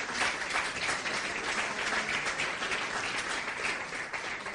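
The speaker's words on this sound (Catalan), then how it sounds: "Com es deia Joan Rafel, per al qual demano un aplaudiment també, sisplau." A crowd of listeners applauds steadily and evenly, a thick wash of clapping at moderate distance with no pauses, heard on an old broadcast recording.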